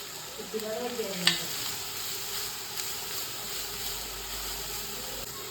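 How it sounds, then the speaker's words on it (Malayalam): Munnar carrots sauté in hot ghee for carrot halwa, giving a steady medium sizzle and hiss with occasional stirring scrapes near the start. There is no talking. "നെയ്യ് ഒഴിച്ച് നമ്മുടെ ക്യാരറ്റ് നെയ്യിലേക്ക് ഇട്ട് സോട്ട് ചെയ്തെടുക്കണം"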